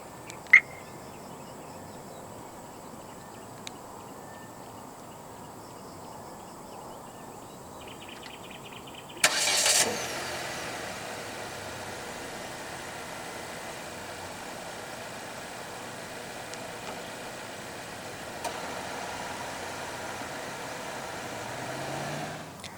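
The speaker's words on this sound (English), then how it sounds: "The Omoda 5 in Malaysia does come standard with a remote engine start system." A 2023 Chery Omoda 5 230T H is started remotely and then idles, with a faint beep early, a sudden crank and catch about midway, and then a low steady idle hum continuing to the end.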